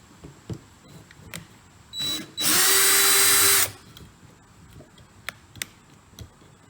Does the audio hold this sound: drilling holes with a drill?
yes